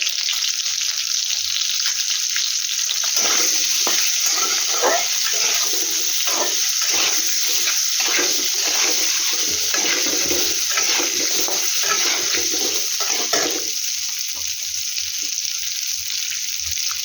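Eggs fry in a pan with salt and turmeric, a steady loud sizzle crackling throughout with dense spitting bursts, quieter at the start and end.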